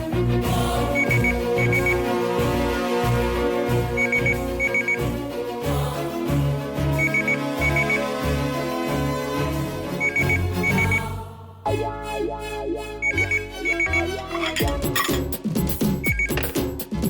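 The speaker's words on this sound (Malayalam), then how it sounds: "ഇവിടുത്തെ ലാൻഡ് ഫോണിലേക്ക് വിളിക്കാം." A landline telephone rings in a repeating pattern of bursts over a busy, tonal background with no talk.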